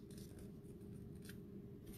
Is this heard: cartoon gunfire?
no